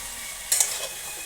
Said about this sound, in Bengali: এখন একটু ভাজি ভাজি করবো।